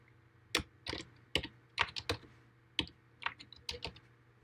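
Fingers type on a computer keyboard in a quiet room, giving a dozen or so distinct clicky keystrokes in an uneven, hesitant rhythm, close and fairly soft with no talking.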